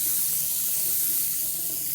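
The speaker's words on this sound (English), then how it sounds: "I'll run cold water, I'll run hot water" Steady water rushing from a bathroom tap during a home inspection in Spain, with cold and then hot water run. It makes a continuous, fairly loud broadband hiss and splash that stays even for the whole stretch, with no talk over it.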